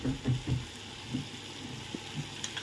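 Masala fries in oil in a pan with a low, continuous sizzle and bubbling, soft pops and light stirring thumps rising in the first second before it settles.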